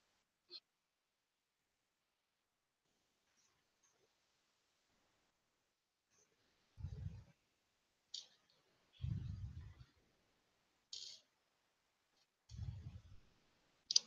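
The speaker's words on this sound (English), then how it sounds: "That's easy, you're just clicking." Mouse clicks sound in scattered quick bursts, crisp and fairly close, with a few dull low thumps between long quiet stretches and no talking.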